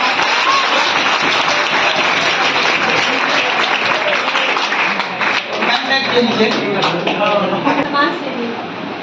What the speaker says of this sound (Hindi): जोरदार तालियों से स्वागत बताइए।